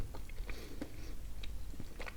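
Soft, close chewing of a crunchy, salty toffee-like candy, with a few small crisp crunches scattered over a couple of seconds, quiet and without talk.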